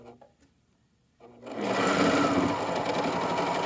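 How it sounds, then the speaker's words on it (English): Serger overlock sewing machine stitching around a fabric corner; after a quiet start with faint handling, the motor starts up and runs in a steady, rapid close-up whir. "So this is how you do a corner on the serger."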